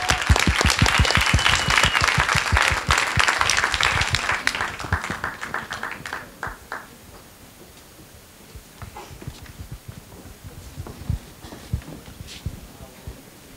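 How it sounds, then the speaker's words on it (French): An audience at the Concours de la Francophonie prize ceremony in 2012 applauds the winners, with loud, dense clapping for about six seconds that thins to scattered claps and fades into quiet room noise. "on applaudit très fort nos grands lauréats"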